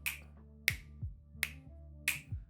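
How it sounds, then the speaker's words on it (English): Four crisp finger snaps, evenly spaced about two-thirds of a second apart, sharp and close with nothing else around them. "I still don't even know how snapping your fingers works."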